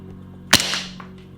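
A single sharp shot from a B&W BW17 Glock 17 airsoft pistol firing at a target, a crisp close crack with a short decay and no talk.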